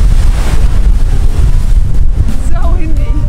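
Strong wind on a Big Island of Hawaii lava coast buffets the microphone with a loud, constant roar, with faint crashing ocean surf behind it.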